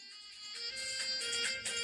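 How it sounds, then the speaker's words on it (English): An incoming phone call rings as an electronic ringtone, a steady tonal pattern with rhythmic pulses, faint and alone for about two seconds. "I'm sorry, I got a phone call"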